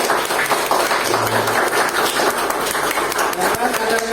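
A classroom of students claps hands together in dense, continuous applause for a few seconds, with some voices mixed in.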